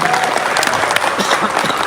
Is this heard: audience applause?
yes